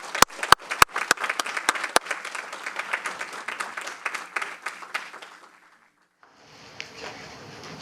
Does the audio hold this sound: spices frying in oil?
no